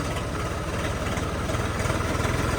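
A motorcycle engine idles nearby with a steady low throbbing rumble and faint vibration, continuous throughout with no talking.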